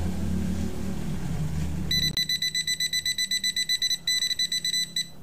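An electrical tester touched to a live 220 V wire gives a loud, rapid pulsed electronic beeping. It starts suddenly after a stretch of low hum and continues steadily, close by, with no talk.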